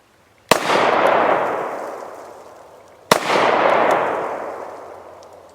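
Two loud 9mm shots from a Double Tap Defense pocket pistol, fired a few seconds apart outdoors, each a sharp crack followed by a long booming echo that fades slowly.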